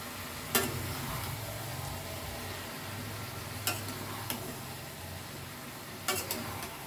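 Eggplant pieces tossed into a pan of nearly cooked potatoes give a steady low frying sizzle, broken by a few sharp clinks of a utensil against the pan near the start, middle and end.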